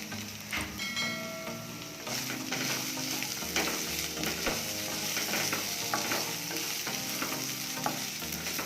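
Paneer pepper fry stirred and sizzling in a pan, a steady hiss of frying with scraping spoon strokes and light clinks running throughout, fairly close and with no talking.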